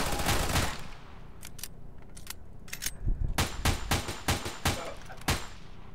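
Gunfire in a game, with an opening rattling burst of rapid shots followed by a series of sharp, separate bangs in irregular clusters, loud and close, and a voice briefly speaking underneath.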